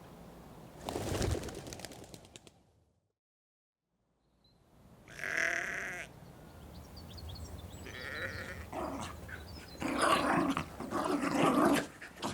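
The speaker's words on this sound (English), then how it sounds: "the over-enthusiastic dogs are already in residence" Dogs bark and growl in several bursts separated by a brief silence, fairly close, with some other animal and bird noises mixed in.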